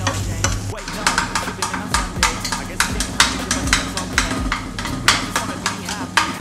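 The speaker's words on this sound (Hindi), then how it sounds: "कलेजी को बहुत अच्छे से मिक्स करेंगे।" Chicken liver being stirred into hot fried masala in a pan, with rhythmic scraping strokes over a constant close sizzle of oil.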